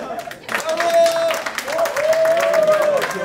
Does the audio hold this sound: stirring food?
no